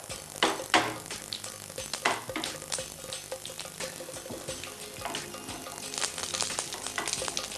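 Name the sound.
mustard seeds and chillies frying in hot coconut oil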